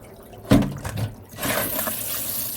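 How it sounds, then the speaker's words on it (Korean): Water from a kitchen tap splashes over frozen clams in a bowl while the water is changed: a sharp splash, a short pause, then a steady running rush close by. "물을 좀 이렇게 갈아주면서 물을 좀 바꿔줄게요"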